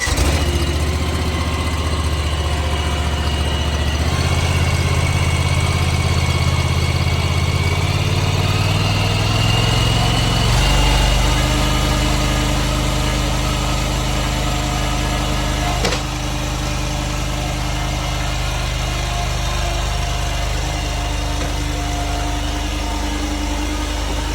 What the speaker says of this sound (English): this is going to be full throttle, so it's going to be a little loud.